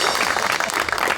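A studio audience at a talk show applauds in a brief, loud, dense wash of clapping that fills the whole moment.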